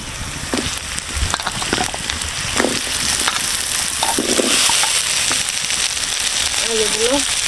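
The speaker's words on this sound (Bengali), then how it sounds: "এখন কেটে ধুয়ে রাখা আলুগুলো দিয়ে দেবো।" Cut, washed potatoes go into a pan of frying onions, giving a crackling sizzle broken by knocks and scrapes of stirring, with a brief voice near the end.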